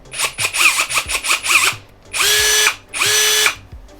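A Hikoki brushless cordless drill whirs in several short bursts at low speed, then runs in two longer, higher-pitched bursts at fast speed, close and loud.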